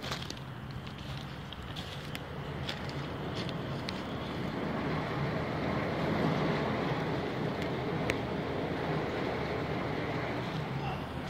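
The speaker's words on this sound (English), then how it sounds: "Water rushing through it." Rainwater from a heavy overnight downpour rushes through a sewer, a steady broadband roar that swells slightly and holds throughout, with a few faint clicks.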